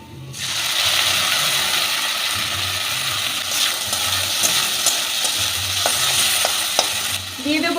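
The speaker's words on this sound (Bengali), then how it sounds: "পেঁয়াজটা আমি ভেজে নেব" Onions sizzle loudly in a pan, with scraping stirs and clinks of a utensil against metal throughout.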